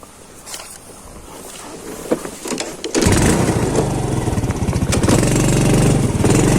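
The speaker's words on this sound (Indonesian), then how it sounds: "balik ke motor. Kita motovlog lagi." A motorcycle being ridden along a dirt path near a high-voltage power line route, the engine quiet at first, then roaring loud and close from about halfway, revving steadily.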